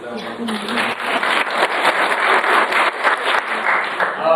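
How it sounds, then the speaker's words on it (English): Parents applaud the grade 6 team leader at a school information evening, a steady round of clapping from a room full of people that starts after a brief voice and carries on evenly to the end. "you can clap for him too"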